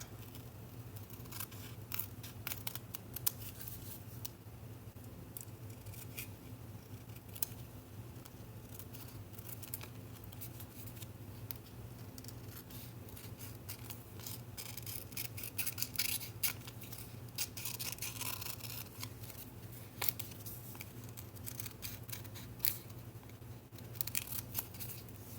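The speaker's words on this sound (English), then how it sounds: "I'm going to trim this off." Scissors snip steadily around the edges of a paper ticket, a close, continuous run of small cuts over a low background hum, with no voices.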